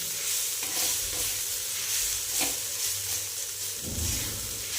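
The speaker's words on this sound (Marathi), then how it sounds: "तर हे थोडीशी तिखट जे आहे ते भाजू द्यायचं आहे." Chili powder roasting with vegetables in an iron pan, a continuous close sizzle and hiss broken by scraping stirs of a spatula, with no speech.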